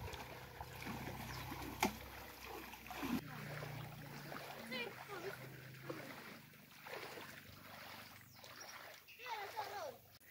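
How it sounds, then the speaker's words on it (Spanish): Water sloshing and splashing in a river as catfish are caught by hand, with irregular close splashes and stirring over a steady flowing background, and voices talking at times. "Mira, cómo se mueve el agua."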